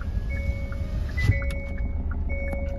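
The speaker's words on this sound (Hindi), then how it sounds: "ये मैंने गाड़ी ऑन कर ली" A 2023 Hyundai Venue S Plus diesel engine starts and settles into a close, steady idle. A low rumble runs under faint tonal hums, with a brief bump as it catches. No one speaks.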